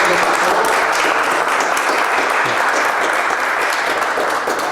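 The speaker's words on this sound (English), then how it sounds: "let us clap again and thank Murat" Sustained audience applause fills a lecture hall after a talk, a dense steady wash of many hands clapping at even volume throughout, with no voices over it.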